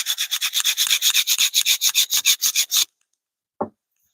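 Rapid rhythmic rasping strokes of sandpaper on a wooden spoon, about twenty quick passes, close and loud, then silence broken by one short final scrape.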